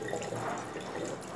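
Water runs steadily over a dirty ceramic bathroom wash basin stained with hard water, a close, even splashing hiss with no breaks and no talking.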